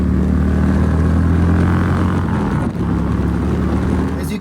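A Harley-Davidson Electra Glide Police Edition riding on the road, just back running after a clutch hub bearing repair, gives a loud, steady engine drone heavily buffeted by wind roar throughout.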